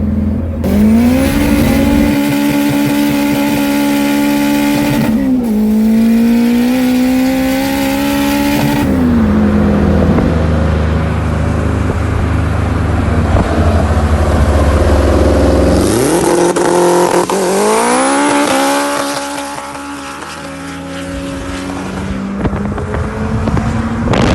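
A turbocharged K20-swapped Honda Civic making about 300 horsepower on pump gas accelerates hard on boost, its engine note climbing through repeated loud revs and gear changes, then easing off near the end.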